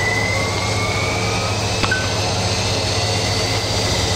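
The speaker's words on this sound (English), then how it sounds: "We'll now switch over and start the right engine." Steady, loud roar of a BAe Jetstream 41 right turboprop engine starting up, with a rising whine sweeping upward over a constant low drone and broadband rush that fill the whole stretch.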